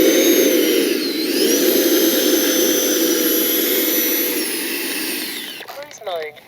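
HobbyKing Viper 64 RC jet model in flight at a maiden outing, its turbine-like electric ducted fan whining steadily with rising and falling pitch as it passes, fading near the end as a voice speaks over it.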